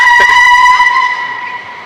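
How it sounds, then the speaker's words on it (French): A tram in Rotterdam or Amsterdam squealing on its rails, a loud, piercing, sustained metallic screech with a steady pitch that slowly fades. "Faut mettre de l'huile monsieur dans le tramway là."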